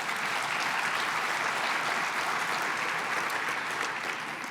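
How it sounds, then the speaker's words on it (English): Sustained, even applause from a keynote luncheon audience for the mayor of Williams Lake, a dense wash of clapping that carries on without letup and eases slightly at the end. "Everyone give the mayor a round of applause."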